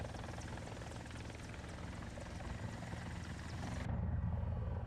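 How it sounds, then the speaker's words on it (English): Mi-28 attack helicopter in the War Thunder video game, heard from a third-person view: a steady, loud rotor and turbine drone that runs throughout and swells slightly toward the end. "This is how the Mi-28 sounds. From third person, at least."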